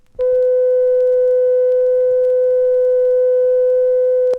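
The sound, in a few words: pure tone, higher pitch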